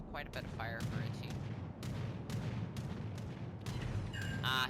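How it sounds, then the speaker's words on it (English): Naval guns from a battleship in a World of Warships-style naval game fire a salvo: repeated heavy booms over a continuous rumbling battle din, with talk running underneath. "We're gonna go ahead and take that shot"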